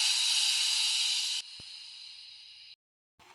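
A steam locomotive in a model railway scene releases a loud hiss of steam that drops to a softer hiss, then cuts off, with a brief faint hiss returning.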